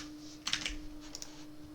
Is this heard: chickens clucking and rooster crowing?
no